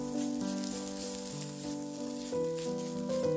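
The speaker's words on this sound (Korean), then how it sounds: "다진 마늘과 파를 기름에 충분히 볶고 어묵을 넣고 살짝 볶아줍니다" Garlic, green onion and fish cake stir-fried in hot oil, giving a steady sizzle beneath prominent melodic background music.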